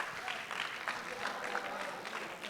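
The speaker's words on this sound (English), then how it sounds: "give him a round of applause for this." An audience claps together during a talk on faith. The applause is brief, steady and moderately loud, and it fills the short moment without any talking.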